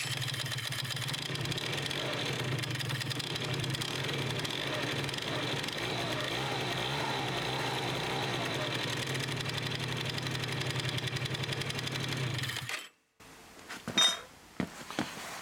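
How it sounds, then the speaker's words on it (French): Scooter engine running after its variator rollers were replaced, a steady mid-pitched hum with a constant droning tone held evenly for about twelve seconds, then cutting out abruptly into a short gap followed by a few clicks and handling noises. "on remet le cache et on teste le scooter"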